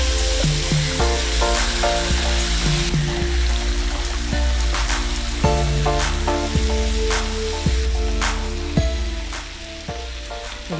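Chicken pieces hit hot oil with onions and fry in a loud, continuous sizzle, with occasional clinks and stirring noises close by, and no one speaks.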